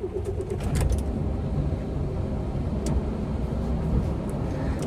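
A car engine idling low and steady after starting, warming up on a snowy roadside in Bulgaria, with faint bird cooing and a few brief clicks early on.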